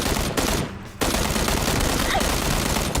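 Dense, loud gunfire from a shotgun in PUBG, a continuous barrage of close shots with a brief dip before it resumes at full force.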